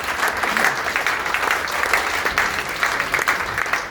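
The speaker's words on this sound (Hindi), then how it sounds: "स्वागत करिए तालियों से" An audience at a stage event claps to welcome a speaker, a dense, steady burst of applause filling the room at close range and holding evenly throughout.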